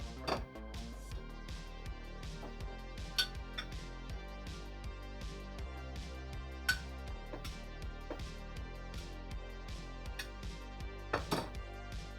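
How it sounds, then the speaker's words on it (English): Knife slicing crosswise through sous vide tri-tip on a cutting board, a steady series of faint, soft taps and cuts repeating over several seconds, with no talking. "I'm going to slice it going crosswise, so then that way I'm not chewing on super long grain of meat."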